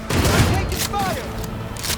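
Gunfire in the video game Cyberpunk 2077, a dense loud burst of shots with echoing booms and crackles, heard close.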